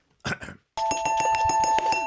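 A ding-dong doorbell sound effect, with a short burst of noise first, then a bright sustained chime with a ringing tone that rings on clearly and loudly to the end.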